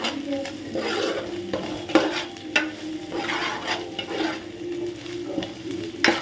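Masala paste for prawn curry being stirred and fried in a pan: a steady sizzle with repeated scraping and clinking of a spoon against the pan, close and fairly loud, with no talking.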